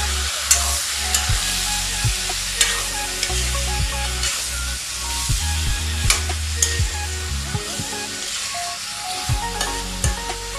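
Duck meat fries in a pan while being stirred, a steady sizzle underneath repeated scraping and knocking of the utensil against the pan at an uneven pace.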